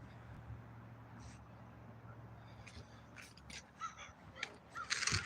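Crows caw in short, scattered bursts, faint and distant at first, then several louder calls crowd together toward the end over a quiet background.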